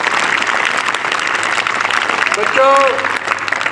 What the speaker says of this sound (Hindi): एक बार अपने लिए तालियां बजा दो